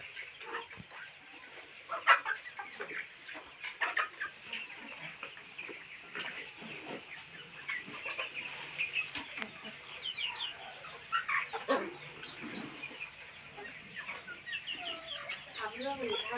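Chickens at a poultry farm cluck repeatedly in irregular bursts, several birds calling close by over a low farmyard background.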